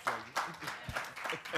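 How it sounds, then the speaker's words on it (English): A few sharp hand claps at a student athlete summit, roughly five distinct claps spaced evenly across under two seconds, faint and close, mixed with some background voice. "I clap for you."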